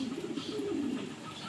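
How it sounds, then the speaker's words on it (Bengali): A pigeon coos once in a low, soft, brief murmur close by, with faint background hiss. "এই যে পায়রা"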